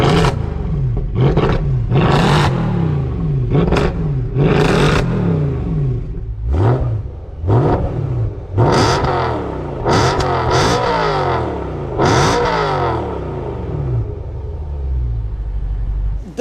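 Two German V8 sports cars, a Mercedes C63 AMG and a BMW M3 with exhaust work, revving hard in repeated loud roaring bursts that rise and fall, close up.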